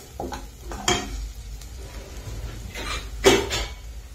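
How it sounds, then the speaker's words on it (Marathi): Onion and tomato fry in a pan, a faint soft sizzle broken by a few sharp scrapes and clinks of a spoon stirring, close by with no voices. "कांदा टोमॅटो बघा आपला भाजलाय."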